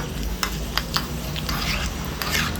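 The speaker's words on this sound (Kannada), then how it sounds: "ಹಾಗೆ ಸೇಮ್ ಒಂದು ಒಗ್ಗರಣೆ ಪಾತ್ರೆಗೆ 2 ಒಣಮೆಣಸನ್ನು ಹಾಕ್ಕೊಂಡು ಈ ಚಟ್ನಿ ಏನಿದೆ ಅದಕ್ಕೆ ಹಾಕ್ಕೊಳ್ಳೋಣ" Two dry red chilies fry in oil in a small tempering pan for a chutney, crackling and sizzling close by with a few sharp pops and bursts over a steady frying hiss.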